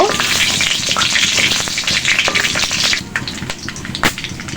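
Whole spices, including cinnamon and allspice berries, crackle and sizzle in hot oil for chicken tehari, a dense close frying hiss with scattered pops and scraping that thins out toward the end.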